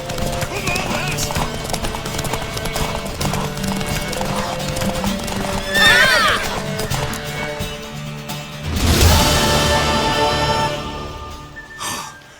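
Horse hooves clip-clop rapidly in a gallop, with a loud whinny near the middle and people talking over the commotion, in The Witcher 3: Wild Hunt video game.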